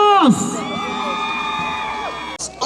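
Children shouting and cheering together at a folk orchestra competition in Peru, a loud burst of whoops and yells from a crowd over a sustained stretch of voices.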